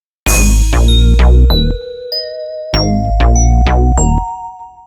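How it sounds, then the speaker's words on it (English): Kill Bill siren horn sample in an FL Studio beat: loud bright bell-like tones struck in quick succession, a pause, then a second repeating phrase ringing out and decaying. "And of course the Kill Bill horn."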